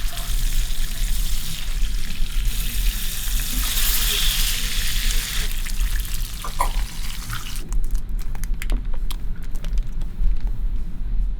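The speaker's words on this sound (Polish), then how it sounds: "Smaż kawałki łososia z każdej strony." Salmon pieces frying in vegetable oil in a pan, a continuous close sizzle and crackle with occasional stirring or turning noises, steady and loud throughout.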